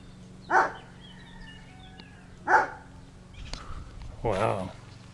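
A dog barks three times at intervals, fairly close, with birds chirping faintly in the background, in rural wine country in Slovenia.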